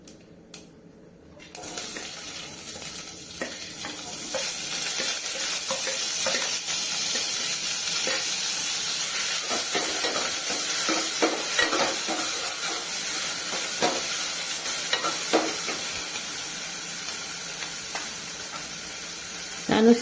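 Onion, green chili, garlic, ginger and curry leaves frying in a pan for beetroot-leaf dal, a loud steady sizzle that starts after a brief quiet moment and continues with scattered crackles and stirring scrapes.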